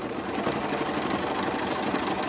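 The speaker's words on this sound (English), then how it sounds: "So I'm just going around it, top stitching, making sure that seam is sticking up" A sewing machine running steadily while top stitching an elastic casing on a dolman dress, a fast continuous whirring hum at moderate volume.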